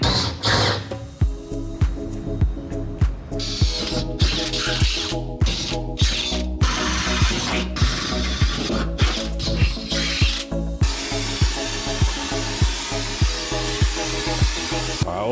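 A drill bores 9mm holes through steel to take nutserts, with steady grinding and chattering bites repeating over a constant machine whine, close and fairly loud, the pitch brightening toward the end.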